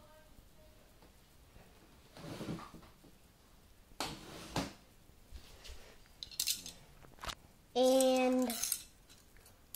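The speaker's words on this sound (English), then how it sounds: "So I'm gonna take scissors" Scissors cut open a plastic Lego Series 11 minifigure blind pack, giving scattered snips and crinkly rustling bursts up close. A brief spoken word and a short voiced sound break in near the end.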